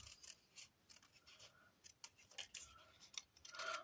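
Scissors snip through paper for an art collage, a quick run of close, faint crisp cuts and rustles in a quiet room.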